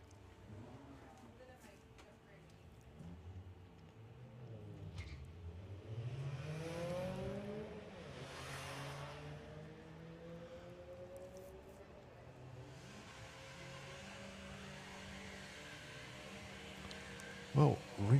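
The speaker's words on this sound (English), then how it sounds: "Well, Reese way out in front, but here comes Paul Robinson at the stripe" A little VW and an Audi TT drag racing down the strip at a sportsman nationals event, engines rising and falling in pitch as they run, heard from a distance under a track announcer's commentary.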